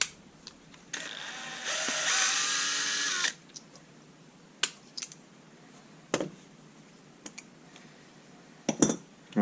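Nut being taken off a pair of Fiskars garden shears, with a short buzzing power-tool whir followed by scattered sharp metallic clicks and taps, close and quiet between sounds.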